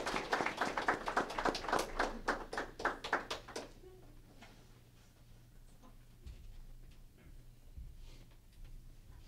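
Mourners at a funeral ceremony give a short round of applause, a few seconds of distinct sharp claps that stop abruptly and leave a quiet room with faint sounds.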